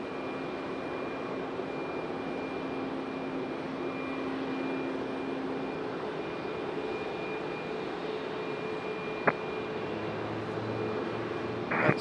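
An airplane departs from Raleigh-Durham International Airport as a steady, broad engine roar that holds at moderate distance through the whole stretch, with a faint tonal whine and one sharp click near the end; no one speaks.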